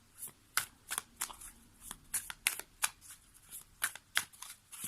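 Oracle cards are shuffled and drawn by hand in quick, uneven flicks and riffles, soft and close in a quiet room, with a couple of dozen crisp card snaps over about five seconds.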